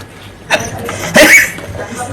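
An adult coughs in two short, harsh bursts a moment apart, fairly close and loud against a quiet room background.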